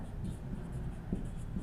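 Chalk or marker scratching on a board in a Class 10 maths lesson, repeated short strokes running steadily through the clip under a low room hum, with no talk.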